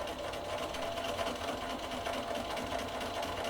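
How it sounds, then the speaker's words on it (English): A sewing machine stitching elastic onto fabric runs continuously at a steady, close hum with a fine rapid needle clatter, uninterrupted for the whole stretch. "Sewing it through. Just pulling it as I go"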